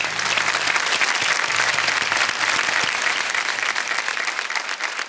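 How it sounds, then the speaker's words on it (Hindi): A studio audience gives loud, sustained applause for working women, dense clapping from many hands filling the whole stretch without a break. "उन औरतों के लिए आज आप लोग एक जोरदार ताली मार के दिखा दीजिए।"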